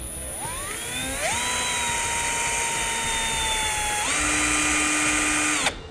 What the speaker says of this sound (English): So we'll go ahead and start one hole.